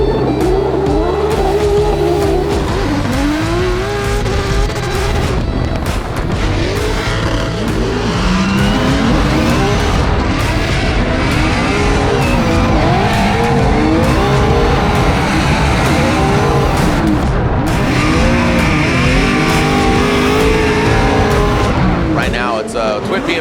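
Two BMW drift cars scream past in a tandem run with engines revving hard and tires squealing continuously, loud and close, under an excited commentator's talk.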